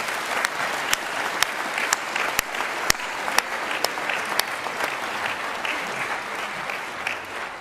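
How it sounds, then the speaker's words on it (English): A large audience in an auditorium applauds steadily after a youth brass band championship results announcement, dense sustained clapping with a few sharper claps standing out, fairly near and continuous. "Give them a big round of applause"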